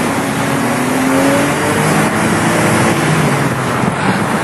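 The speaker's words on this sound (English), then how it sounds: "And when you drop it down a gear or two and give it some revs, it sounds" Porsche sports car engine revving hard after a downshift by a gear or two, a loud, steady, dense roar held close for the whole stretch with no talk over it.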